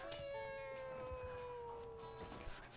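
Cat meowing in the video game Mewgenics, a drawn-out tonal meow with a wavering pitch, heard clearly over a faint game background with no talking.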